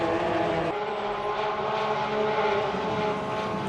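Several race cars battle in a five-car pack on a road circuit with tight S-bends and a hairpin, their engines droning loud and steady with layered whining tones.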